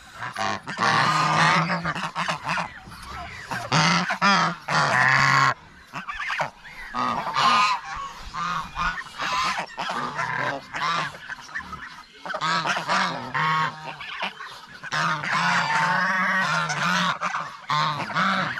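Geese honk on a farm in a noisy flock, loud overlapping nasal honks coming close and continuously with barely a pause.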